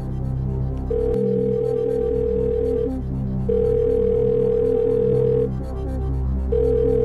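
Phone-a-friend call on the game show Who Wants to Be a Millionaire, playmobil version: a telephone ring tone sounding in three long steady bursts with short gaps, over a low droning musical bed.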